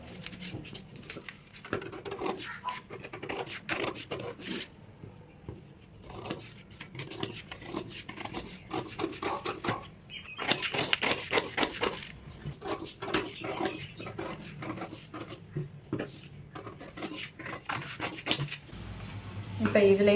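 Scissors cutting blouse fabric along a marked line, a continuous rasping snip and rustle of cloth close up, with faint handling noises and no clear speech.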